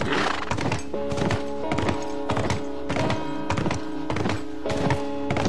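Horse hooves clip-clop in a steady rhythm with an occasional whinny while riding on horseback in The Last of Us video game, close and fairly loud over a continuous musical background.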